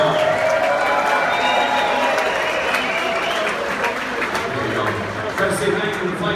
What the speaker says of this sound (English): Come on, make some noise for the crew here in Paramount.